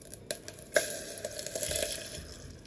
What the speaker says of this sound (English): I'll pour in the milk now.